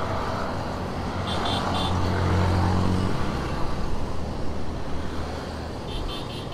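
Yamaha motorcycles overtake on a highway, a broad rush of passing engines and road noise building and then fading into a steady wind-blown roar.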